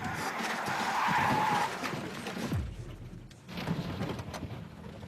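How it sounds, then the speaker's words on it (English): A car on a driving course skids out of control after the driver hits the brake, a loud tire screech sliding across the surface, then quieter rumble and engine noise. "he skids out of control by hitting the brake"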